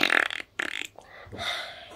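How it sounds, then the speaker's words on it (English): A few short, raspy bursts of flatulence in quick succession, close and fairly loud, with no talking over them. "I wish I would just stop farting."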